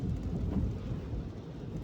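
Rain patters steadily outside a Nissan taxi in Zhytomyr, a dense low-pitched wash of drops with a rumbling, wind-buffeted quality throughout the short stretch and no speech.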